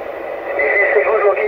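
CB radio channel hissing with static and faint distant skip voices, a steady noisy band that swells slightly partway through, with talk coming over the radio.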